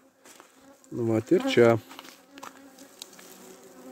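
Honeybees shaken out around a hive holding one frame of brood and one of honey, a soft steady buzz under a brief spoken phrase.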